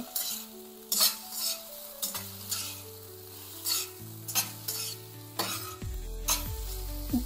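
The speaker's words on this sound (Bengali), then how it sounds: "তারপরে ভালো করে নাড়িয়ে চাড়িয়ে নেব" A paste of ginger, garlic and cumin sizzles in a pan over a low gas flame while a spoon stirs it, leaving a steady quiet fry broken by about eight distinct scraping strokes.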